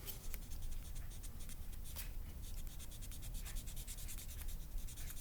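Steady rapid scrubbing and rubbing on a ceramic knife sharpener, clearing embedded metal shavings from its surface, continuous close friction with no talk.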